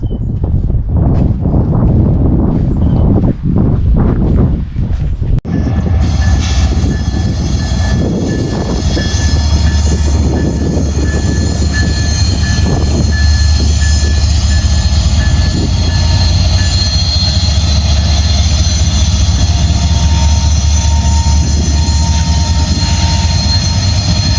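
A train at a Canadian railway museum in Capreol, Ontario rumbles loudly and steadily on the tracks with a low drone and metallic wheel squeal, following a few seconds of clattering and handling noise.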